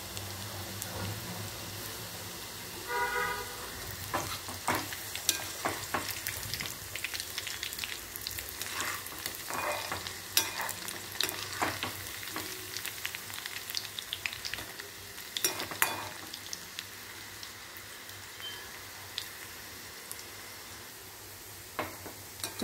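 Onion pakoda frying in hot oil crackles and sizzles steadily at close range, with irregular pops and occasional stirring clicks over a constant low hiss, no talk.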